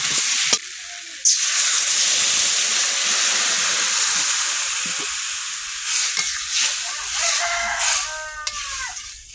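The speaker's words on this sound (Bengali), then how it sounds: "একটু জল দেবো কলাটা সেদ্ধ হওয়ার মতন" Water poured into a hot pan of green banana with chili, salt and turmeric sets off a loud, steady hissing sizzle that carries on without a break, close and unbroken with no voices.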